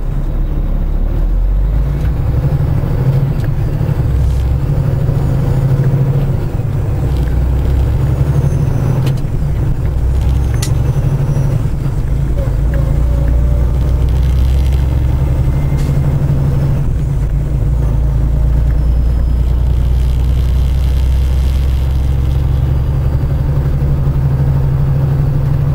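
Constant loud, low engine drone and road rumble from inside the cab of a Kenworth T680 truck driving along the highway, with a few faint clicks and knocks over the steady noise.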